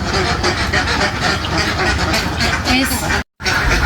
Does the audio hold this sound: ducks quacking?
yes